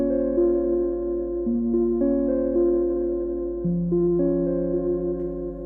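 Dark synth pattern of sustained, stepping chord tones drenched in Eventide Blackhole reverb at a 20% mix, each note change sliding into the next in a slow, moody progression, with no voices.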